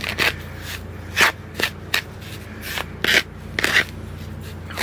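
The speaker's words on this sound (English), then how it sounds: "approximately equal quantities of the red sifted turfus, the athletic turfus, and white sand. So I'll mix it together." Red sifted Turface, athletic Turface and white sand being mixed together for a bonsai soil blend, giving a series of gritty, rasping scrapes and shuffles in irregular bursts, close up with no talking.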